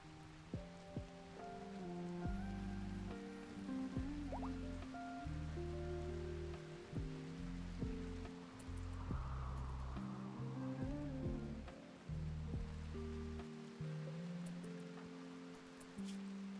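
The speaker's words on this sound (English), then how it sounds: "As soon as I make a fire, it rains again and again." Steady rain falls in the video game Rimworld, a soft continuous hiss of drops spread over the whole stretch, faint beneath slow game music.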